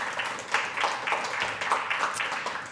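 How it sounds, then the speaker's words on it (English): Audience applause at a live startup pitch event for artists, steady clapping from a room of people, moderately loud and sustained with no speech over it. "let's give a big round of applause for the Chilliwack Chamber of Commerce"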